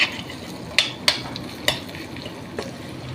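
Bitter gourd, capsicum and chhana stir-fried in a pan over a low gas flame: a soft, steady sizzle broken by a few sharp spatula scrapes and clicks against the pan, with no talking.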